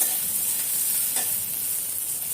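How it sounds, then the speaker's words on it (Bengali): Garlic and onion fry in a pan with black cumin and green chili, a steady close sizzle with one brief sharper pop, no talking. "আমি রসুনটা একটু ভাজা ভাজা করে তারপরে পেঁয়াজটা দিয়ে দিচ্ছি, দিয়ে একটু লাল লাল করে ভেজে নেব"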